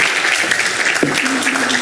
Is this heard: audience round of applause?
yes